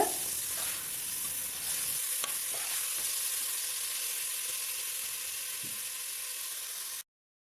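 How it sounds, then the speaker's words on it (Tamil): Onions and tomatoes sauté in a pan for mint pulao, giving a steady sizzling hiss with occasional scraping stir sounds throughout. The sound cuts off abruptly near the end. "நம்ம சேர்த்துருக்கிற வெங்காயம் தக்காளி நல்லா வதங்கி வரணும் அது வரைக்கும் வதக்கிக்கோங்க"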